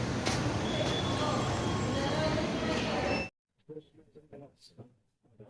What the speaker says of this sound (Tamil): இப்போ மெட்ரோ ஸ்டேஷன் என்ட்ரன்ஸ்க்கு வந்துட்டோம்.